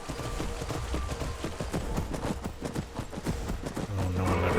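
A video-game horse gallops with rapid, steady hoofbeats close up, then lets out a neigh near the end, loud over a continuous background wash.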